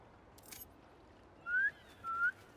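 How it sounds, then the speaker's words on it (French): Two short rising whistles in the video game Spider-Man 2, clear and tonal, one after the other over a quiet background hum, preceded by a brief soft rustle. "Sifflez pour voir."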